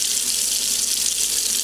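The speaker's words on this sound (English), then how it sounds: "we are first going to test the water as it comes out of the faucet without the filter" A sink faucet runs with no filter attached, and the water rushes in a steady, bright, hissing stream close up the whole time until it cuts off at the end.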